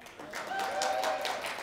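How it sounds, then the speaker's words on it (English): A church congregation gives a brief round of applause, soft and somewhat distant, with a few distinct claps standing out over the steady patter. "let's give a round of applause for Juan and Emma"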